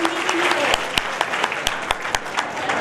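Audience applause at a Keer community talent award ceremony in Bhilwara, a dense wash of clapping with several sharp louder claps standing out, steady and fairly close throughout.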